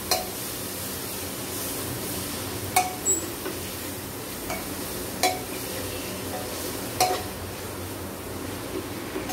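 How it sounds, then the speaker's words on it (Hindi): Drumstick leaves are stirred in a pan over a low, steady frying hiss, and a utensil clinks against the pan now and then in a few sharp close taps. "सहजन का साग अब थोड़ी देर चलाने के बाद में"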